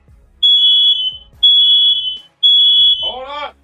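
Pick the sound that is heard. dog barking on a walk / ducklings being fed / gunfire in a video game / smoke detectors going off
smoke detectors going off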